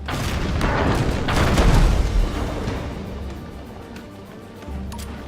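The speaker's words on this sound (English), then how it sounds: "Let's give one more fire shot." A deep booming blast from a ship's fire shot in the Abandon Ship naval game, loud and rumbling, swelling for about two seconds before fading into a low tail, with a second softer thump near the end.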